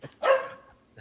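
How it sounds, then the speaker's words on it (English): Single sharp bark from a dog aimed at her toy, close and fairly loud, with a short tail fading out and a faint sound at the end. "Yes, she is barking at her toy."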